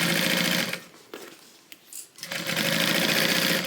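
A sewing machine stitches a tote bag in loud, fast bursts close up, running steadily, stopping for about a second with a few light clicks, then racing again.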